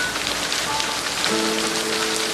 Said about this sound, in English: the sky starts raining heavily